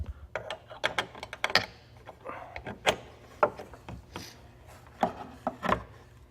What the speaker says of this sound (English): I'm going to tighten these bolts down.